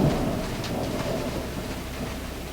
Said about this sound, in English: I hope you can hear the thunder roaring.